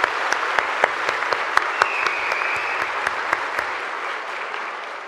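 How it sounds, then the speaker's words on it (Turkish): A political gathering applauds its youth branch members, with a crowd clapping steadily and a few sharp, close claps standing out above the dense, even applause. "Gençlerimizi alkışlayalım."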